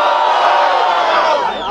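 A rap battle final audience roars and cheers loudly, a dense sustained crowd shout that fades slightly at the end.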